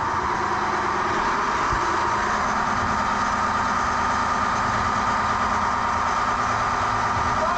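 A heavy sailboat engine idles in neutral, steady and loud, a constant low rumble with no change in pitch for several seconds.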